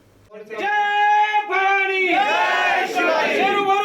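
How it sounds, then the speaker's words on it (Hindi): A protest crowd chants slogans against the state government, a sustained chorus of raised voices in unison with a rising, overlapping shout partway through, loud and close. "इस दौरान राज्य सरकार के खिलाफ नारेबाजी की गई"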